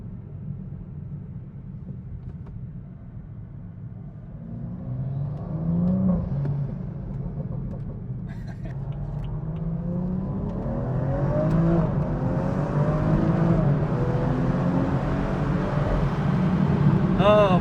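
BMW accelerating in Sport Plus mode with an XHP transmission tune. Engine drone builds and rises through gear changes from inside the cabin, growing louder, while people talk over it.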